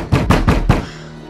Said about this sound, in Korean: 누군가 문을 두드리는데